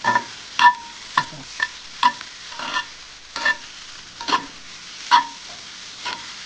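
Salt, turmeric and sambar powder stirred in a pan before shrimp are added, heard as a steady run of close spatula scrapes about every half second over a quiet, faintly hissing background.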